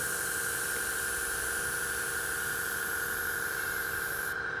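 Steady, continuous hiss of a Harder & Steenbeck Ultra airbrush spraying paint, close and even in level for several seconds, cutting off abruptly near the end.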